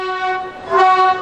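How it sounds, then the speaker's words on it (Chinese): A train on the Alishan mountain railway pulls slowly into Fenqihu station and sounds a loud, close, tonal horn. The horn swells and dips briefly, then rises again in a stronger blast. "火车缓缓开进站"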